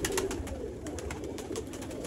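Sialkoti black-faced pigeons cooing close by, a steady low burbling murmur of several birds with soft repeated coos, no voices.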